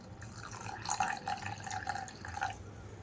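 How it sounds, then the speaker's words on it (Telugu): Boiled and cooled milk is poured over chia seeds, a soft close trickling and gurgling of liquid that runs for about three seconds at low volume with small bubbling splashes. "ఇక్కడ ఇందులోకి కొంచెం కాచి చల్లార్చిన పాలు తీసుకుంటున్నాను."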